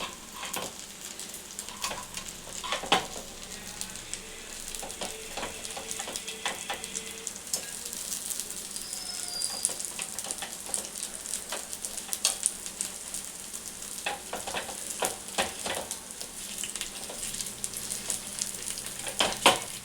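Gunta ponganalu made from dosa batter fry in a hot pan with a steady close sizzle and crackle, joined by occasional light scrapes and taps as they are turned.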